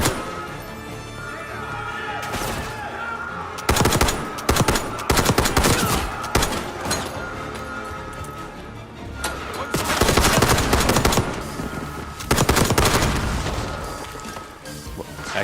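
An XMG machine gun fires in Call of Duty Black Ops 6, loud rapid bursts of automatic gunfire in several separate volleys with booming impacts between them and a steady game background underneath.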